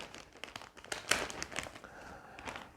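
Crisp crinkling of a plastic packet holding Hayabusa boxing gloves being handled up close, a run of irregular rustles and crackles with one sharper crunch in the middle.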